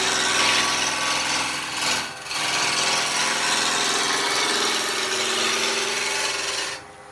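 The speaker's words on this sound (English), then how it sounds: "all I'm going to do now is turn the lathe off again" Wood lathe spins a spindle blank against a roughing gouge, giving a steady, close rasping cut that dips briefly near the two-second mark, then runs on before fading at the end.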